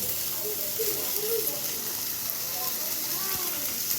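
Onion and tomatoes sizzle and fry in a pan for chutney, a steady close hiss with small crackles and a few faint clinks, under no speech.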